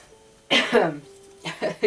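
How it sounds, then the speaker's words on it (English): Several short, harsh coughs in quick bursts, close by, separated by brief pauses with a low background hum. "she keeps coughing, man"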